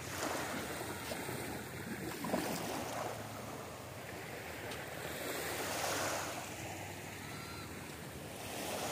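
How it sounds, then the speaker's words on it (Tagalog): Sea waves wash onto the shore at sunset, a steady broad surf hiss with gentle swells rising and falling, mixed with some wind rush against the microphone, no speech. "Sarap pakinggan yung yung alon ng dagat"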